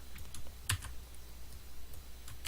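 Someone types on a computer keyboard during an accounting software lesson, a quiet, irregular clatter of keystrokes with one sharper clack, and no talk.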